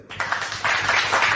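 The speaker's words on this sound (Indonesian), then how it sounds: "Tepuk tangan dulu biar semangat" A short burst of hand clapping from a small group at an Indonesian religious debate gathering, a brief close patter that starts abruptly and swells slightly before cutting off.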